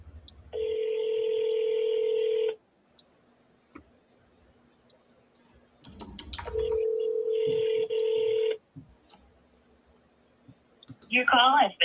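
A telephone call is placed to reach a voicemail, with two steady dial or ring tones separated by a pause, clicks, and brief voice-like warbling at the end.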